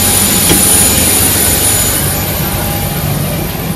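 A passenger jet's engines give a steady, loud broadband roar with a faint high whine, heard close up and continuous throughout.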